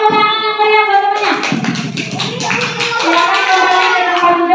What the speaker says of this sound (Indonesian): Kasih tepuk tangan yang meriah buat temannya.